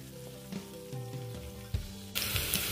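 Carrot, potato, chili and onion fry in a pan with a steady sizzle, with soft tonal music underneath; the sizzle jumps louder and brighter for the last half-second.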